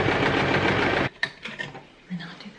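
A sewing machine runs steadily, stitching pieces of jeans fabric together, then stops abruptly, leaving brief clicks and handling sounds.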